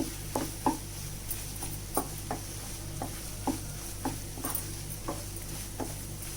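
Veg keema made with soya chunks cooks in oil in a pan, a steady low sizzle broken by regular sharp scraping strokes of a spoon roughly every half second, with no voices.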